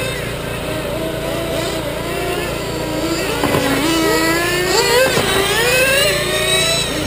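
Nitro-style RC buggy engines whine and rev at a dirt track during an endurance race, several high-pitched motors rising and falling as they pass, with a race announcer talking over the steady buzz.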